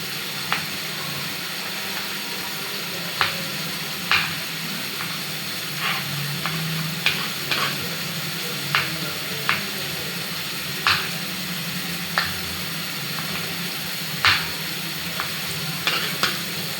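Onions frying in a pan for chicken curry hiss and sizzle steadily up close, broken by irregular sharp scrapes and clinks of stirring.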